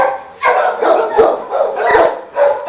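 Several dogs bark loudly and close in an animal shelter, a rapid overlapping series of sharp barks and yips without pause.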